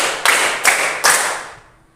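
A group in a classroom clapping game strikes three sharp, unified claps in an even rhythm about half a second apart, each ringing briefly before the sound dies away.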